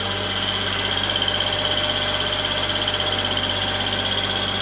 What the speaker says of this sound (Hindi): ये थोड़ी सी बेल्ट की आवाज़ है, बेल्ट इसका टाइट होगा।